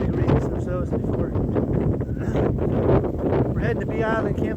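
Gusty wind buffets the microphone on an open prairie on a warm, windy late afternoon, a steady roaring rush with rustling that runs the whole time, while people talk over it.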